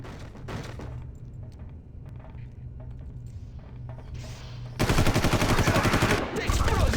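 Gunfire in the Far Cry video game, a magazine emptied point-blank: scattered shots and thuds at first, then a loud sustained rapid burst of automatic fire that dominates the last two seconds.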